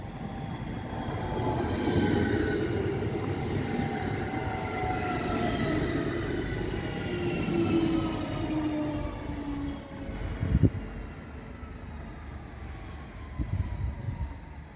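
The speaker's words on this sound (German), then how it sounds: "Das ist eine Solo-Einheit Baureihe 440 Mainfrankenbahn" A Deutsche Bahn class 440 Mainfrankenbahn solo unit pulls into track 6 at Gemünden am Main station, with a rising, whining electric drive, squealing brakes and rumbling wheels, then a few thuds as it settles.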